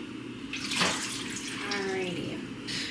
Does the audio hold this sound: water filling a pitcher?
yes